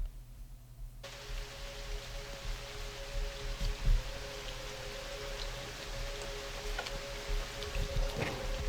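Steady rain falling on surfaces in an electronic track, a soft, even patter that runs throughout with a faint sustained synth tone and occasional louder drops.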